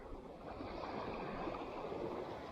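Strong tidal current of rising sea water during a high tide of over four metres, a broad continuous rush and wash of moving water with some wind noise, steady and fairly quiet, with no voices.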